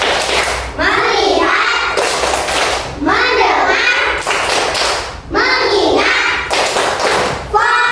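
A primary-school class plays a 'tepuk fokus' focus clapping game, a group clapping in loud rhythmic bursts while chanting words together in unison between the claps.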